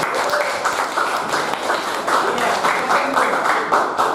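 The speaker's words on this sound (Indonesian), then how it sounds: "Berikan tepuk tangan kepada mereka." Classroom of students applauding classmates after a physics presentation on momentum and impulse, a loud, close burst of mixed clapping with some voices in the room.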